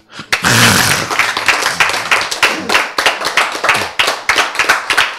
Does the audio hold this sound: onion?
no